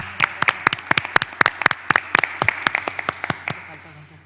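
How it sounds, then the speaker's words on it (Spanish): Sparse, separate hand claps from a small audience at a human rights subcommission session, sharp, close and irregular, fading out after a few seconds. "así que un aplauso también para Irene, la asesora de Constanza"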